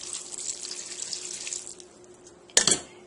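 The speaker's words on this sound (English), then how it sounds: "now I'm going to put in the chicken stock. Just pour it on." Chicken stock pours from a container onto extra stuffing in a baking dish, a light trickling splash that fades out before a brief louder splash near the end, with no talking.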